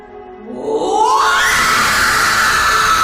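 A loud, sustained scream used as a sound effect in a Hindi horror story rises sharply out of a low groan and holds at full strength to the end.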